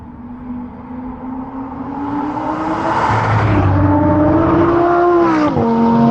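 A Lamborghini Huracan RWD EVO Spyder or a stage 2 BMW accelerates hard on an open stretch at top speed. The loud, close engine note climbs steadily through the revs, then drops briefly as it shifts near the end.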